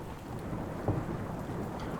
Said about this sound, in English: Such a nasty storm out here tonight.